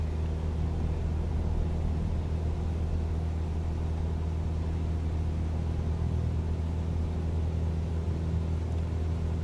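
Simulated light aircraft engine held at full throttle with flaps fully extended during a takeoff roll, a steady, loud droning rumble that stays constant and unbroken throughout.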